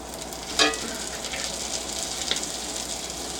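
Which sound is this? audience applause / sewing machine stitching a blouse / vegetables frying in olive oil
vegetables frying in olive oil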